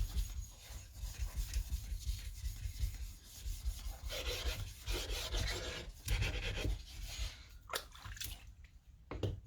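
Sharpening stone rubbed back and forth on an old 140 grit Atoma diamond plate to flatten it, a close, wet, rhythmic scraping rasp with soft splashy strokes.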